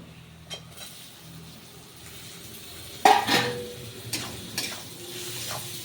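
Tomato dropped into a pan of frying spices, a quiet sizzle that jumps to a loud crackle on contact, followed by intermittent stirring clinks and scrapes.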